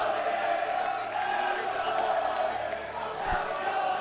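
Football supporters at Rizal Memorial Stadium in Manila roar and chant during a Philippines Football League match between Kaya FC-Iloilo and Stallion Laguna FC, a sustained loud crowd din with a sharp thump near the end.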